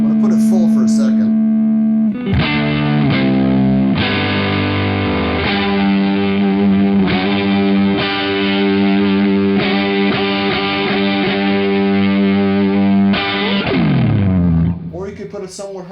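Electric guitar through a Pigtronix Philosopher's Tone compressor-sustainer pedal set fully up, strumming loud, sustained chords that ring long and evenly, then fade out near the end.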